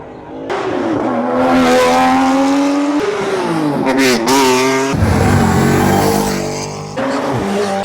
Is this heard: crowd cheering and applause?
no